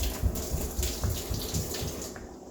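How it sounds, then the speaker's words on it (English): Water from a pot of cooked noodles pours and splashes into a kitchen sink, a close, continuous gushing rush that tapers off at the end. "you always want to drain your noodles"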